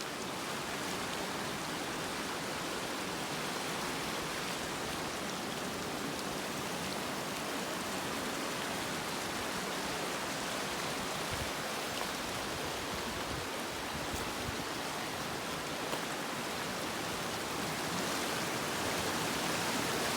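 A stream on the Appalachian Trail, flooded well above its usual level after days of rain, gives a loud, unbroken roar of rushing water that holds steady throughout with no voices.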